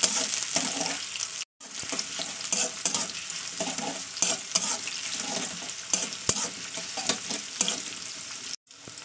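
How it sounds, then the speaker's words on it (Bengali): Onion fries in hot oil in a pan, a steady moderate sizzle overlaid with scattered light scrapes and taps of a spatula stirring, briefly cut to silence twice; nobody talks. "পেঁয়াজটাকে একটু লাল লাল করে ভেজে নিতে হবে।"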